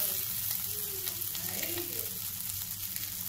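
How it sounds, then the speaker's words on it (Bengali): Fish heads and chopped onion fry in hot oil, giving a steady close sizzle and crackle with light stirring noises mixed in, moderately quiet and continuous. "তেল গরম হয়ে গেছে আর এখানে যে মাছের মাথাগুলি ছিল তো এগুলি আমি এখন ভেজে নিচ্ছি"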